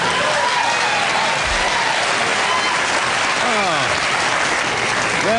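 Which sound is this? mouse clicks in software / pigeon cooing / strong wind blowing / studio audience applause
studio audience applause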